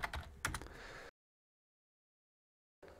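A computer keyboard is tapped in a quick burst of keystrokes while a name is entered. The typing cuts to silence, then a few more clicks return at the end.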